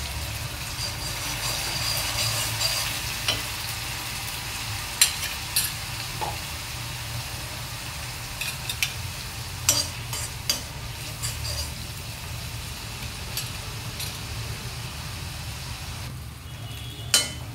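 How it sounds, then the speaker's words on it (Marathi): Masala of onion, tomato, garlic and coconut frying in oil, a steady sizzle broken by intermittent sharp scrapes and clinks of a spoon stirring against the pan. "छान आपला मसाला भाजून"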